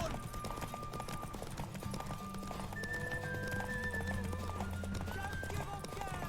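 Horse galloping in the video game The Witcher 3: Wild Hunt, with rapid rhythmic hoof clip-clop continuing throughout, close and steady, mixed with background music and game sounds.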